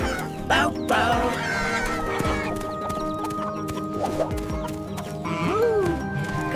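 Chickens cluck and call on a farm at close range, with hoof-like clip-clop and other farmyard sounds mixed in and a voice briefly heard.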